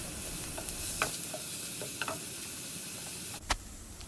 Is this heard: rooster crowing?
no